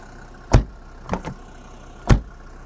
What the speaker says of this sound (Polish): Zamykamy drzwi. To jest zamknięcie drzwi